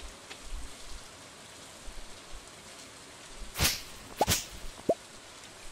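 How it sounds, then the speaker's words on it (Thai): Steady soft rain hiss falls in Stardew Valley, with a couple of sharp swishing hits and short plops cutting through near the end. "วันนี้ฝนตกไม่ต้องรดน้ำ"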